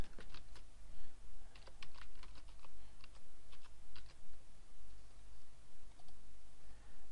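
A computer keyboard is typed on in short bursts of crisp clicking keystrokes while a username is entered, fairly close but quiet against faint room hum, with pauses between clusters.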